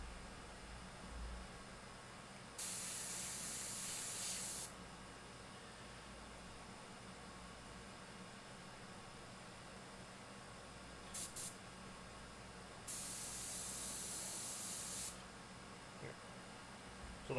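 Bursts of airbrush spray hiss loudly in two sustained passes plus a couple of short puffs while a tribal skull is painted, with quiet room tone between them.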